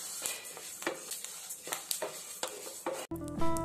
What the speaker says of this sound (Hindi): अलसी में से चटचटाहट की आवाज़ भी आने लगी है